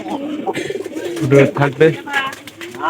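Pet pigeons cooing in a loft in winter, soft repeated throaty coos close by, partly under someone talking.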